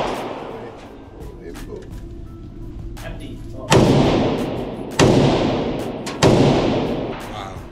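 Three sharp AK rifle shots at a gun range, about a second apart in the second half, each loud with a ringing decay, following a stretch of quieter background with people talking briefly.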